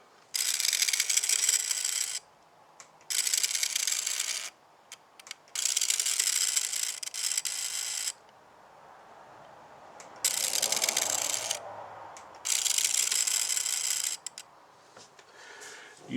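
Servo mechanism on an LGB 2062 model locomotive whirs through several bursts of movement, each lasting a second or two, separated by short quiet gaps, close and alone.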